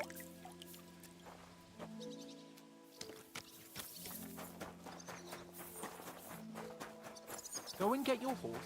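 Horse hooves clip-clop in the video game Kingdom Come: Deliverance II, a steady moderate-paced gait heard beneath layered music and game ambience, with a brief whinny-like sound near the end.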